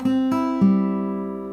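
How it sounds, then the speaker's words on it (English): Fingerpicked guitar in Nashville tuning, three quick plucked notes ringing out into a sustained bright chord, close and clear with no voices. "you play that in Nashville tuning and it sounds like this."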